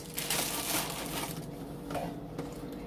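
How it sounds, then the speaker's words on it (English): Dry yellow or white boxed cake mix is poured into a bowl, making a steady, soft, gritty rushing and crumbling hiss for about three seconds with no one talking. "Dump the cake mix into a bowl."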